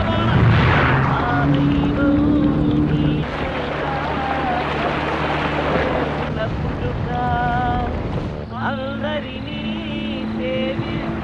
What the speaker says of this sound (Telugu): బోట్ నడుపు ప్లీజ్